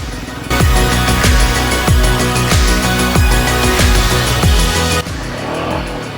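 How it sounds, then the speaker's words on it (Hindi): A motorcycle engine revs hard again and again in repeated rising and falling surges as the bike slides and loses grip on a muddy, rain-soaked mountain road near Langza in Spiti Valley; it is loud, close and continuous. "अपने स्लाइड कर रही है भाई साहब बाइक"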